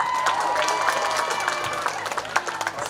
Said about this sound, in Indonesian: Mana nih tepuk tangannya?